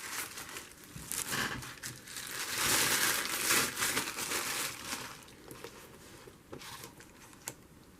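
Plastic packaging from a bead craft kit crinkles and rustles close by in irregular bursts, loudest in the middle and tapering off into scattered crackles and small snaps, with no talking.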